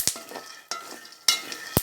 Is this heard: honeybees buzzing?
no